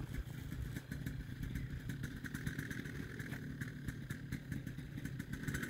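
Paramotor engine running during a takeoff in Corsica, a steady buzzing motor drone with rapid clattering pulses, fairly faint and distant, with no voices over it.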